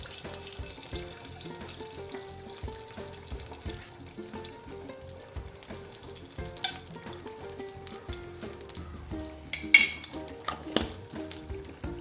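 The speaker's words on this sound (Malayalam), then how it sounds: "നെയ്യൊന്ന് ചൂടായി വരുന്നുണ്ട്." Homemade ghee heats in a hot pan on a Kerala kitchen stove, giving a soft, steady sizzle with light clinks and a brief louder rattle near the end, fairly quiet with no talking.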